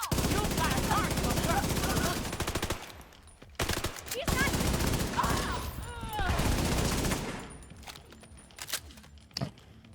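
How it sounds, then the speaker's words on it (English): Rapid automatic gunfire in a video game, dense bursts of rifle fire in long runs broken by short pauses, loud and close, with a player talking over the shooting. "Shooting back!"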